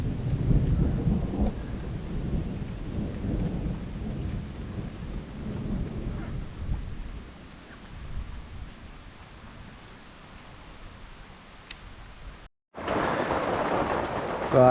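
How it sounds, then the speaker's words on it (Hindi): Heavy thunder rumbles low and long through steady rain in the mountains near the Rudranath temple trek in the Panchkedar region, loud at first and then fading into a softer roll, with a brief cut before the rain comes back strong. "बादल गरजने की आवाज़ आ रही है बहुत तगड़ी।"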